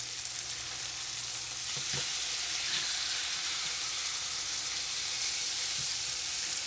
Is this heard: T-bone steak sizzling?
yes